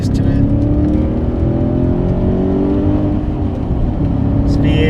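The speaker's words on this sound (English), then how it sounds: "This V8's got some pretty decent pull for just being about 300 horsepower" An Audi A6 C5 with a roughly 300-horsepower V8 and manual gearbox pulls hard, its engine note climbing steadily in a loud, close, continuous drone heard from inside the car while a person talks over it.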